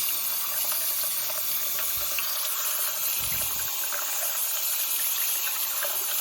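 A tap runs steadily as a stove top is rinsed, giving a constant hissing rush of water with a couple of low thuds partway through.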